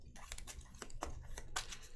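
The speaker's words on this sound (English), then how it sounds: "I'm going to shuffle all this up." A deck of Marvel Champions playing cards being shuffled by hand at a table, quick soft riffling and snapping bursts in irregular clusters, close and quiet, with no voices.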